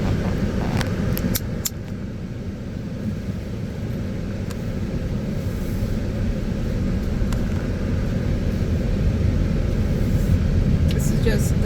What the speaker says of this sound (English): This is just the drive from the pay station to where this home is.